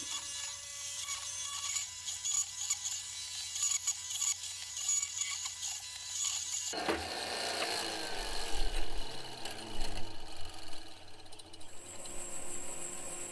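A power tool grinds and rasps through scrap mahogany and walnut. The cutting noise is fairly quiet and uneven, with the pitch and texture shifting partway through as the cut moves into the harder wood.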